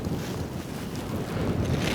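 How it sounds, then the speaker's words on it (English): Strong gusting wind roars steadily outdoors for the whole stretch, a loud broadband buffeting with low rumble from the microphone being battered, and no voices heard. "So windy. Wind is really picking up."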